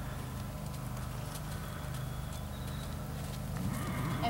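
A ridden horse walks in a circle in a riding arena, its hooves falling in a steady, rhythmic clip-clop at close range with faint background noise.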